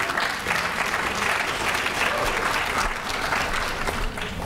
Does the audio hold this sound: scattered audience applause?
yes